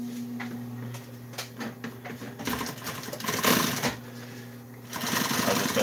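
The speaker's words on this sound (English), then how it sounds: "I'm just gonna sew this piece right here together." A sewing machine stitches tractor seat upholstery in steady bursts, its motor hum and needle chatter rising and pausing across the clip, with no talking.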